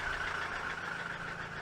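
A Saab project car engine idling with a recently repaired exhaust leak, giving a steady, even hum with a constant tonal drone, fairly quiet and unbroken for under two seconds, no voices.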